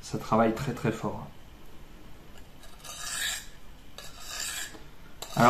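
A blade rasps in a few strokes across a DMT diamond sharpening stone, fairly quiet and gritty, between someone speaking French at the start and the end.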